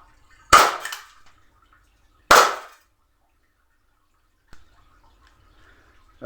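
An airsoft Saigo Sig-Sauer 229 pistol fires two sharp, loud shots close by, about two seconds apart. A fainter click follows later, with no talking.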